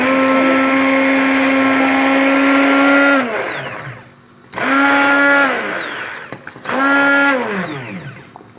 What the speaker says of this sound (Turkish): Şimdi blender'dan geçirelim.